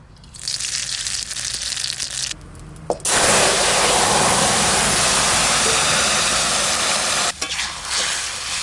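Radhuni seeds are tempered in hot oil for a light Bengali fish curry: a quieter crackle at first, then a loud, sustained sizzle bursts up and holds close by, with one brief dip before the end.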